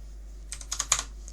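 Several light, close clicks in a quick irregular cluster, like a computer mouse or keys being pressed while working in Tinkercad, over a low steady hum in a quiet room.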